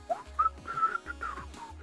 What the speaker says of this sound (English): The two work in unison, and are often heard whistling together